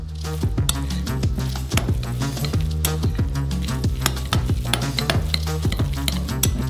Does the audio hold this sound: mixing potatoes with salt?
yes